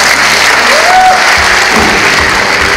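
Wedding guests at a church ceremony give steady, loud applause that fills the whole stretch, with a brief voice rising above it.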